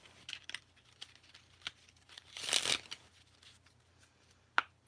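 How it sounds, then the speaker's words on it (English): A deck of cards is shuffled close by, quick riffling flutters building to a dense burst, then scattered soft clicks and a final tap. "Last shuffle."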